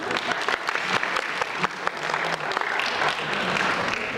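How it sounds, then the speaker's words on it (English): An audience giving a round of applause at a talk, dense continuous clapping, loud and close throughout. "Let's give her a round of applause."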